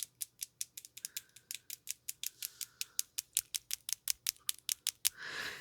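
A voice imitates the alien clicking from a Star Trek: The Next Generation episode: a long train of sharp, evenly spaced clicks, about five a second, close and crisp, ending in a short breathy hiss.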